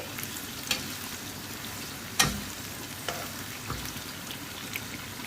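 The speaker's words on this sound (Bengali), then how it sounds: "পেঁয়াজ কুচি দিয়ে দিলাম, একটু হালকা করে ভাজা দিয়ে" Chopped onions fry in a generous amount of oil, giving a continuous close sizzle broken by a few sharp clinks and scrapes of stirring.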